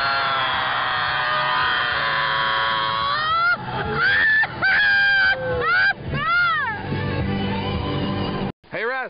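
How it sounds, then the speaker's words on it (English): A touring band's members scream and yell together while crossing a bridge, loud wavering, sliding voices rising and falling over steady road and vehicle noise, with a brief dropout near the end. "bands on tour scream across every single bridge"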